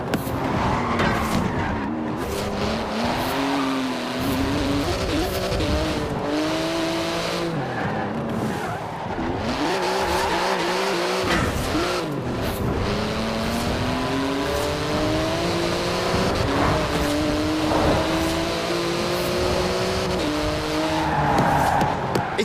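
A Porsche GT2 RS races in Forza Horizon 4, its engine roaring continuously with repeated tire squeals and skids as gears shift, loud and close with no talking.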